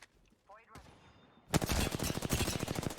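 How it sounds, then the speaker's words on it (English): Rapid automatic gunfire from the player's weapon in a team shooter game, a loud sustained burst of closely spaced shots breaking in after a quieter stretch of softer game sounds and brief effects. "So right here, I start firing"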